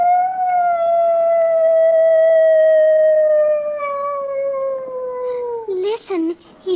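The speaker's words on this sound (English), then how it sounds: "that's a neighbor's dog, Mr. Hitchford" A dog's long, drawn-out howl rises loud and steady, then slowly falls away, sounding at night in an old radio drama; a few short broken yelps or voiced sounds come at the end.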